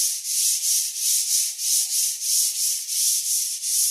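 Close, rhythmic sandpaper scraping over primer, about ten even back-and-forth strokes of gritty rasping with no talking.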